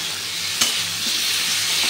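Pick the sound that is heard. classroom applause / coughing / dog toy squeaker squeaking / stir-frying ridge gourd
stir-frying ridge gourd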